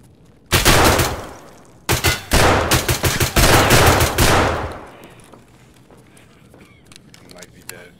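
Shotgun blasts from the video game Escape from Tarkov, firing flechette rounds in the Factory map: one loud close shot, then a rapid burst of several more, fading into quieter background game noise.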